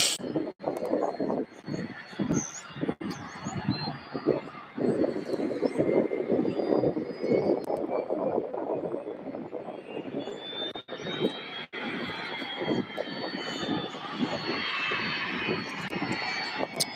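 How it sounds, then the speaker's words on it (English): A jet airliner turning on runway 17 right at SDF airport during holiday plane spotting, giving a loud, steady engine roar with a rising whine that continues for the whole stretch, with no talk over it. "Flight 94 turning on the runway 17 right."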